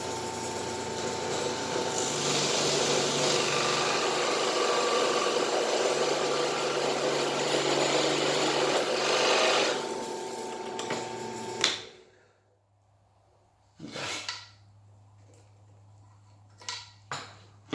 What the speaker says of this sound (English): I don't try to drill fast. Just go easy on it.